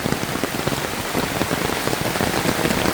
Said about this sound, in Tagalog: Kusog kayong ulan, uy. Grabe ka kusog.